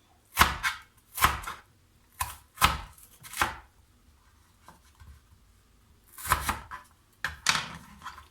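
A knife chops down through potatoes onto a cutting board in several firm, separate strokes cutting thick slices, with pauses between, close and crisp, no talking.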